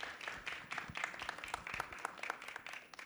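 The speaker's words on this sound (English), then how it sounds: "let's give Kelly one more round of applause to say thank you" A small audience at a lunchtime museum talk gives a round of applause to thank the speaker, a modest, fairly quiet patter of individual claps that stays light and uneven.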